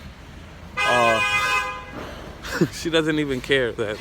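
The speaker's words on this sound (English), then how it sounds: "they're honking at her" Car horns honking in traffic, a long loud blaring toot followed by shorter bursts, with someone talking over and between them.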